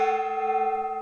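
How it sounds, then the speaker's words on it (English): A decorative gong struck softly rings with a steady, sustained metallic hum, its tone holding evenly without fading much, alone and fairly clear. "I have a decorative gong,"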